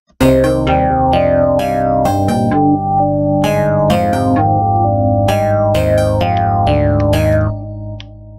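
Several FL Studio patterns for a track layered together: bright plucked synth notes and wooden percussive hits over a sustained bass and chordal bed, dense and loud throughout, fading slightly at the end.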